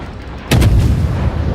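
A warship's main guns fire a shell salvo in World of Warships, one loud, deep booming blast after a brief quiet, rolling out into a long low rumble.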